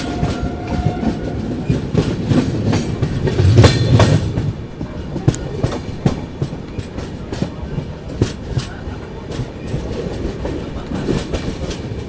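Gitanjali Superfast Express running through Sevagram station without stopping, a loud continuous rumble of wheels over rail joints with rapid clickety-clack and periodic sharp clanks as coaches pass close by.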